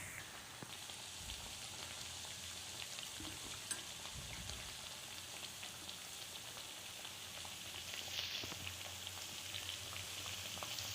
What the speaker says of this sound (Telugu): గోల్డ్ కలర్ వచ్చే వరకు వేపుకోవాలి, లేదంటే లోపల వేగవు